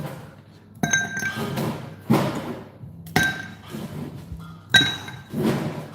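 Ice cubes clatter and clink into a cocktail glass while a Boulevardier is being made, four separate bright, sharp bursts of knocking and ringing at near range with no talk.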